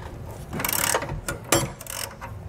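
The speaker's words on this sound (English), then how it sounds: "May have to loosen this bolt just a little bit so that it'll hang freely." A wrench ratchets against a bolt on a trailer leaf spring hanger while a Dexter axle spring is being worked on, giving a few close, quick metallic clicking bursts with short pauses between them, and nobody talking.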